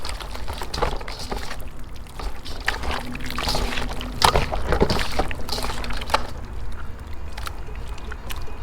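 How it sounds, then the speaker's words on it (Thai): Pork intestines being washed by hand in water to rinse out salt: steady sloshing, splashing and pouring close up, with intermittent rubbing and dribbling and no talk. "ล้างไส้ล้างเกลือออก มันจะเค็มเกินไป"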